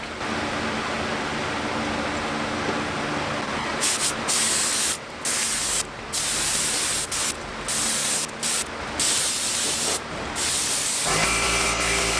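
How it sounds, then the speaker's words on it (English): Hissing bursts from a spray gun laying a clear coat over a Honda CBR600RR motorcycle fairing during a custom pearl paint job, starting as a continuous blast then breaking into repeated short sprays, close and loud. "So this is the last coat of clear really until I get some more hardener."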